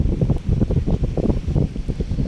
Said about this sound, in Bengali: বাতাস এবং নদীর গর্জনটা খুবই ভালো লাগে